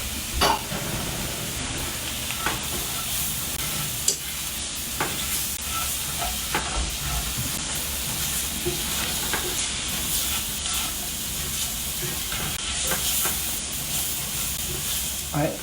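Tomatoes being stirred into a hot pan on medium-low heat, giving a steady soft sizzle and hiss with occasional faint clicks and scrapes, continuous and close.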